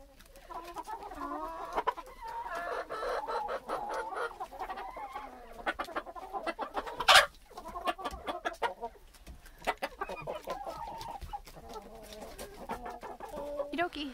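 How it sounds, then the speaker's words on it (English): A rooster in a snowy farmyard among alpacas and poultry gives a single sharp call mid-clip, amid softer clucking from nearby chickens and some quiet background talk, with outdoor noise throughout. "Oh, that was that suspect rooster."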